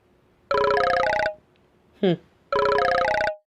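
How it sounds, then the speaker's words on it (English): A telephone rings with an incoming call in two long electronic ringtone bursts separated by a pause, loud and close, with a brief short voice sound between the rings. "It seems that I have a phone call."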